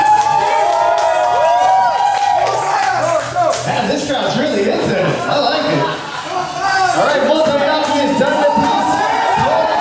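A crowd at a speed eating contest whoops and cheers loudly and steadily throughout, with shouting voices and chatter layered over the sustained roar.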